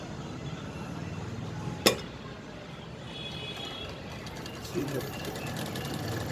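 A pico sewing machine runs with a steady, rapid mechanical whir and rattle, close and continuous, broken by one sharp click partway through.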